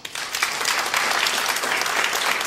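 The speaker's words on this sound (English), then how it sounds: "Applaud if you want to see less." Steady, loud audience applause filling a lecture hall at a public-opinion forum, continuous clapping from many hands without pauses or voices.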